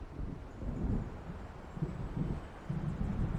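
Low, rumbling thunder from an approaching storm in Alan Wake Remastered rolls in waves over windy, blustery noise, moderately loud and with no voices.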